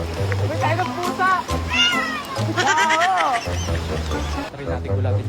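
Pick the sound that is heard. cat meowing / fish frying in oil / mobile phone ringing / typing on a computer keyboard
cat meowing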